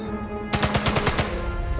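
Gunshots in Sniper Elite 5, played on PS5: a rapid burst of about ten close, sharp shots in quick succession, following a brief quiet moment.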